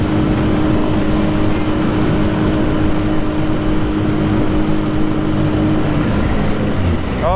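A Yamaha 9.9 outboard motor pushes a jon boat at near-maximum RPM, a loud, steady high-revving drone that holds constant throughout with wind and water noise underneath.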